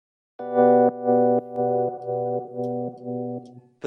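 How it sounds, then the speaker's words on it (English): A sustained harmonic tone run through a vocal slap delay set to ping-pong stereo, repeating in short even echoes about every half second, each repeat slightly quieter, close and clear with no talk. "I'm using it's actually a vocal slap. I actually quite like that setting. It's on a ping pong effect, which means it's got that stereo added."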